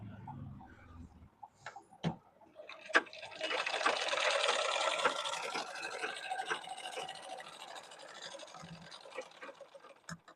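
A sewing machine stitches baby pants, starting with a few short taps and then running in a fast continuous whirring burst of needle rattle, close and moderately loud, with faint pauses near the end.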